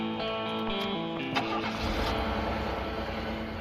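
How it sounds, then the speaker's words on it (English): A car engine cranks and fires up, settling into a steady, loud idle that continues to the end with no talk over it. "All right, time to turn on the car."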